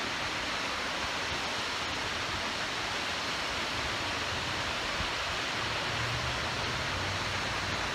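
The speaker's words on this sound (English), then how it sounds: "here's where all that water noise is coming from." A steady, loud rush of a waterfall roars continuously without breaks along a trail at Lake Redstone Park, close by and filling the whole space, with no voices.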